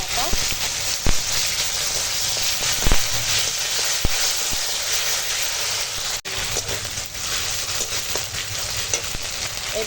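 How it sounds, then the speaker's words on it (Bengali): Bay leaf, dried chili and five-spice sizzle in hot oil with a steady, close frying hiss and a few sharp crackles and pops throughout. "এখানে আছে তেজপাতা আর শুকনো লঙ্কা ফোড়নটা দিয়ে দেবো তেলেই আর এখন দিয়ে দিলাম পাঁচ ফোড়ন"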